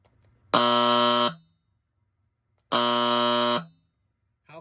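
Two long, loud blasts of a Benjamin industrial electric signal horn, a harsh buzzing tone each lasting under a second, separated by silence, with a brief start of a third.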